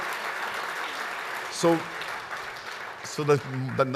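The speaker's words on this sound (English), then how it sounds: "So now while you're still clapping, let me end my speech." An audience claps at the end of a speech at a project management national conference, a steady wash of applause with a voice speaking over it.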